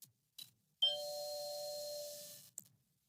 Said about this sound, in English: this ding dong means that we are beginning an exercise.